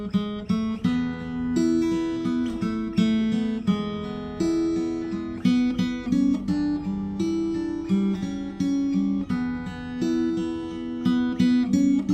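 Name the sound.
guitar playing a song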